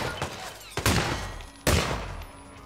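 Shotgun blasts in the Hitman video game: two loud, sharp shots about a second apart, with a softer crack before them, each one ringing out briefly.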